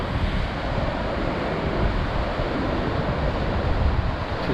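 Ocean waves breaking against rocky ledges on the coast near Port Macquarie, a steady, loud, broadband roar of surf with wind noise throughout and no voices.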